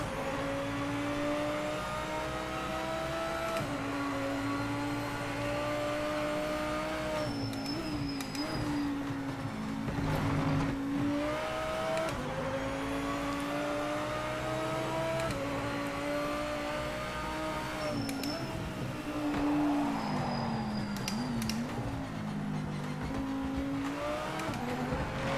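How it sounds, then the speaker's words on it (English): A GT4 race car in the Project Motor Racing sim game revs steadily through its gears, engine pitch repeatedly rising and dropping with shifts, occasional faint tire squeal over a constant drone, with no talking. "It revs very nicely."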